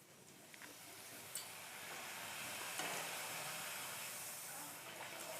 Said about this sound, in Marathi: चला आता कडकने तळायला सुरुवात करूयात